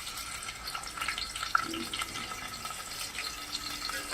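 Mutton drops into hot oil spiced with bay leaf and cinnamon in a pot over a wood-fired chulha, giving a quiet, crackling sizzle with small splashes and one sharp clink in the middle.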